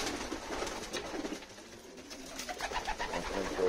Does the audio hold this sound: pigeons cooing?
yes